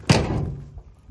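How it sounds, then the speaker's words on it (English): The door of a rusty old square-body Chevy truck swings shut with a single solid, close thunk, then a short fading rattle. "The door's shut for how rusty this thing is."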